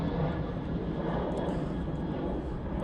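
A Ryanair airliner at Manchester Airport, its engines giving a continuous broadband rumble and roar, steady and fairly loud throughout with no talk over it.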